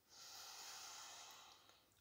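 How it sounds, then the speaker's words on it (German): A single long, deep inhalation heard close to the microphone, a soft airy hiss that swells and holds for over a second before easing off, with no talking. "Wir atmen einmal ganz tief ein."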